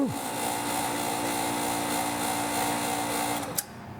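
A press forces a rusty wheel bearing out of a steering knuckle. A steady mechanical drone and strain builds up, then a single loud crack sounds as the bearing breaks free, and quieter hum follows.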